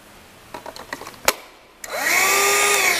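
A battery-powered vacuum cleaner switches on after a few clicks and taps, then runs with a steady, loud whine close by.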